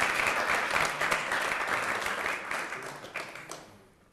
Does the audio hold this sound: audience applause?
yes